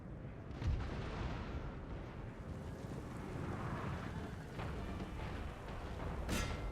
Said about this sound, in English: Now our cannons in particular are super duper accurate.